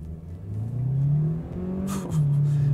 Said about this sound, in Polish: Ależ ten silnik jest głośny.